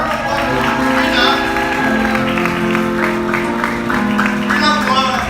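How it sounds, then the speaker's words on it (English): Audience applause at a graduation ceremony for graduate Rina Kumar: steady clapping runs through the whole stretch, mixed with sustained music and voices. "A round of applause for the 2 women who have led us."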